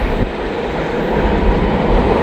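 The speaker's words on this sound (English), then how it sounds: "Man, that was a big train." A big train rolls past close by on the rails, a loud, continuous roar and rumble of wheels and cars that holds steady throughout.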